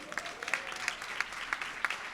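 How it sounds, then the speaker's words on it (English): Conference audience at a Washington, DC tutoring summit plenary applauding, faint and somewhat distant, with a few sharper claps standing out at a steady pace over a soft crowd wash. "Give a round of applause"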